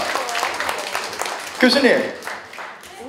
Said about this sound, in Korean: 자, 뜨거운 박수 부탁드리겠습니다